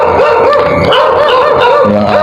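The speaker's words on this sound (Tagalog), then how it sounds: "Maingay lang yung mga aso guys." Several dogs in a village bark and yip loudly, their overlapping barks running continuously and close by with no talk.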